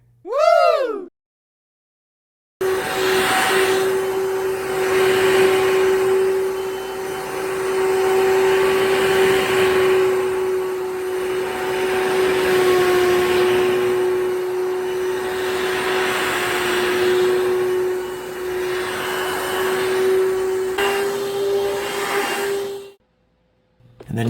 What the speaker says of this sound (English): It works essentially like a vacuum.